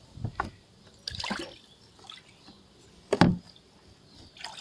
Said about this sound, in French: vous allez de nouveau faire couler l'eau de tous les côtés